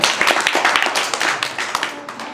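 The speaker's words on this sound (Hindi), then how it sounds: "ताली बजाओ भाई।" An audience claps at a storytelling session, giving a quick, dense patter of close hand claps that carries steadily for a couple of seconds and slowly fades.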